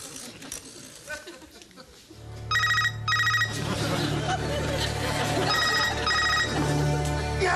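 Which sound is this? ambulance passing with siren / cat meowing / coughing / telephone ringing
telephone ringing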